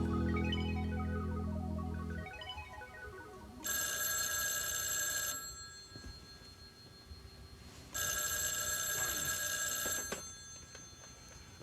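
An old telephone bell rings in two loud bursts, each lasting a second or two with a pause between, after some music at the start.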